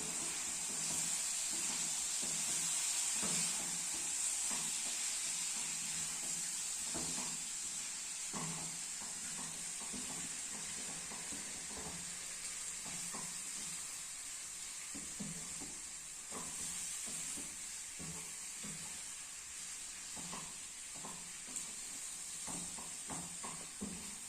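Pork with roasted coconut being stirred in a pan, a constant soft hiss of frying under repeated light scrapes and taps of a spoon, steady and moderately quiet throughout.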